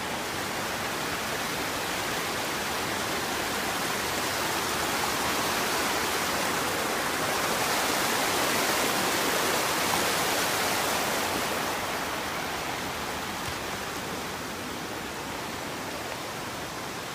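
Ryumon waterfall in Kokonoe, Oita, running muddy after heavy rain: a dense, continuous roar of falling water, loud and steady throughout, swelling slightly in the middle, with no voices.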